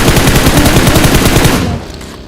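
Video game gunfire sounds as a dense, rapid automatic burst, very loud and close, before cutting off into a quieter tail.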